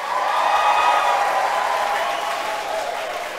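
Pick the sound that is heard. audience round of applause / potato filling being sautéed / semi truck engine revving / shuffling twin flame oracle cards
audience round of applause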